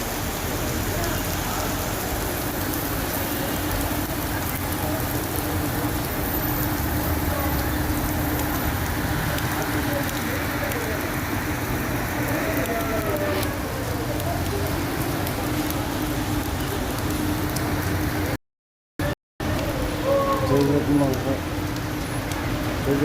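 Heavy rain pours steadily at night in Madinah, a dense continuous hiss filling the scene, with a brief dropout near the end.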